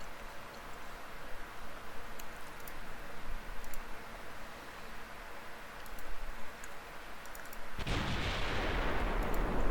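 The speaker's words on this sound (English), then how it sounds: "Alright, guns are opening up." Heavy cruiser guns fire in the naval battle game Ultimate Admiral Dreadnoughts, a dense rumbling barrage with faint distant ticks, then a loud sustained roar of gunfire and spray swelling near the end.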